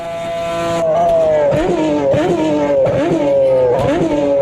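A racing car engine in Automobilista 2 downshifts repeatedly, with loud close blips and revving bursts that step the pitch up at a steady rhythm over a continuous engine drone.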